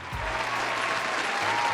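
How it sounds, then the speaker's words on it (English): A round of applause from a crowd, dense steady clapping that fills the moment without a break and stays at an even level. "I want to give him a round of applause for that"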